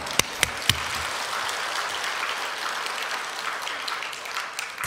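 A church congregation claps during a Korean sermon service: three sharp, loud single claps open, then a soft, continuous patter of many hands fills the room.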